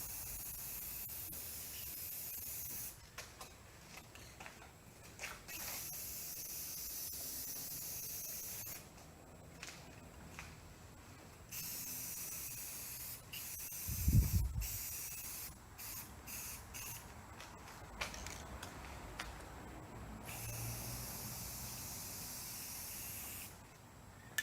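An aerosol can sprays rocker coat onto a bumper rack in long steady hissing bursts, separated by short pauses, with a brief low knock midway.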